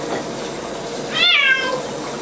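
A single short kitten meow rises over a steady low background hum, close and clear, during the kitten's first bath.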